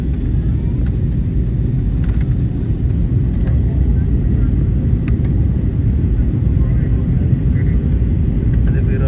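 A steady, loud low roar fills an airplane cabin on landing approach into Delhi on a flight from Ayodhya, a constant engine rumble with no breaks.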